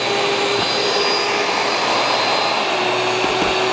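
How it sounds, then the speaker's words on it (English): An electric grain mill, one of a Mockmill, Nutrimill Plus or Harvest, grinds flour on its fine setting, giving a steady, loud motor whine with a constant high hum and no break in the sound. "So what you do is just turn the mill back on"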